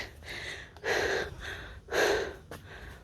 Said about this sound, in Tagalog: Mahingal po.